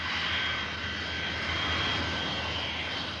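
A Caravelle jet airliner with two rear-mounted engines on its first flight at Toulouse in 1955 gives a continuous loud whining jet roar with a high tonal whine, steady for the whole stretch.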